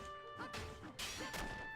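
Rock struck to mine copper in the Dragon Quest Builders game, three crunching smashes spaced about half a second apart, heard over quiet looping background music.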